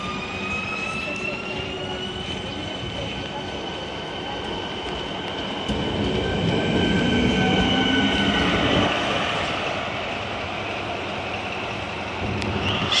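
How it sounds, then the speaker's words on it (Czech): Regio Panther passenger train running near Krupka Bohosudov in northwestern Czechia, a continuous loud rail rumble with wheel squeal and tonal whine, swelling louder midway as it passes close. "Regio Panther Andulka na osobním vlaku."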